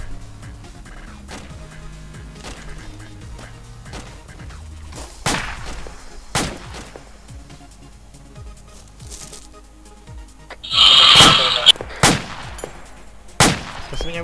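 Gunfire in the military video game ARMA 2 with the ACE mod: scattered single shots, mostly distant, then a louder burst of close fire near the end.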